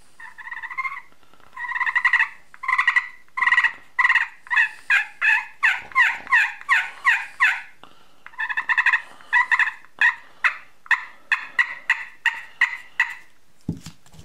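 Rapid series of high, raspy turkey yelps and clucks from a slate friction call worked with a striker, in steady bursts with brief pauses, close and fairly loud, ending with a low thump.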